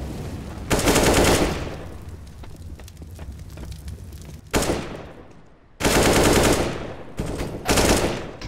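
Heavy automatic gunfire in a tactical shooter match comes in loud, dense bursts, with one long volley at the start and several more near the end, separated by quieter stretches of scattered shots and ambient game noise.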